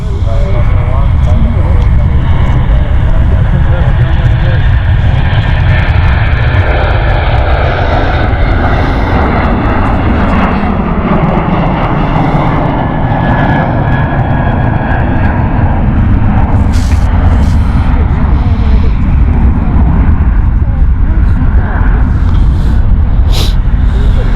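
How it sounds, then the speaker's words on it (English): Ryanair airliner taxiing close by at Stansted Airport, its engines a steady, loud, broadband roar that fills the whole stretch, with people talking over it. "We've got a Ryanair just taxiing past us"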